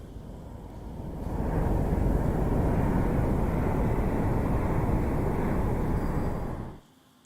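An all-electric Joby Aviation aircraft flies past: a steady broadband whoosh swells in after about a second, holds loud and even for several seconds, then cuts off sharply near the end, with no talk.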